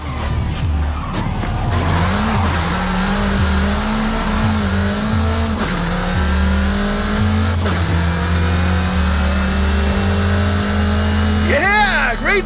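A car in the Forza Horizon 5 racing game accelerates hard, its engine climbing through repeated gear shifts in a loud, continuous roar, with tire squeal near the end.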